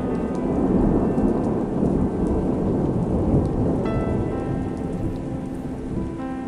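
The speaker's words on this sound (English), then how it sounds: "Thunder beats across the sky as Snowdrop is overwhelmed with panic at the sight of your fall." A thunderstorm in the horse-riding video game Star Equestrian: heavy rain pours steadily across a surface while low thunder rumbles underneath, a dense, continuous wash of storm noise from start to finish.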